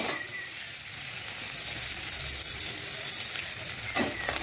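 Chopped onion fries in hot oil until browned, a steady dense sizzle that holds evenly throughout, with a faint stir or scrape near the end.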